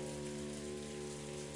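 Rain falls steadily on a rose garden in the Umineko visual novel, an even hiss of drops over sustained musical tones.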